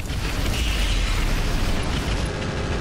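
A PPC energy weapon discharges and strikes its target in the mech combat game Roguetech, a BattleTech mod, heard as a loud, dense, sustained rumbling roar with crackling texture lasting the whole stretch, no voices.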